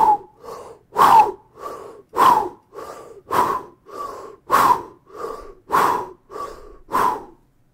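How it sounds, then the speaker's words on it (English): Forceful breathing exercise for brass tone production, about a dozen loud, close, rhythmic breaths, alternating strong and lighter strokes in a steady pulse, with no talk. "Breathe in."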